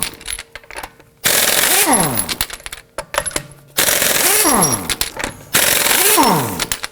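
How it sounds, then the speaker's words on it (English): An impact wrench spinning a 21mm socket loosens lug nuts on a 2018-2024 Toyota Camry wheel, with several loud rattling bursts of hammering, each winding down in pitch, separated by short pauses and small metallic clinks. "Using a 21mm socket, let's loosen and remove our lug nuts."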